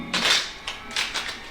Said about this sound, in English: I start by shuffling the cards, giving them a few nice riffle shuffles.